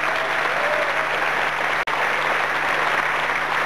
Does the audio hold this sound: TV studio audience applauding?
yes